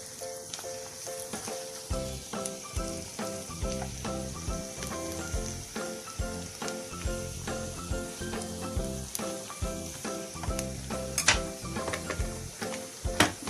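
Peppers and boiled potatoes stir-fry in a pan with a continuous sizzle and repeated scraping and clattering as they are tossed. The sound stays fairly close and steady, with no voices.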